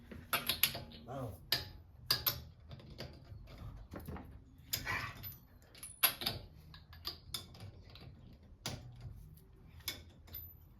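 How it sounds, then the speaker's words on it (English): Someone works a wrench to break loose the lug nuts on a car wheel. Scattered metallic clicks, ratcheting knocks and clanks come in irregular bursts, fairly close and moderately quiet, with some background noise. "first we gotta break up the lug nuts"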